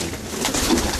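Racing pigeons coo softly and briefly in an aviary with wooden perches, a low murmur against a close, slightly noisy background.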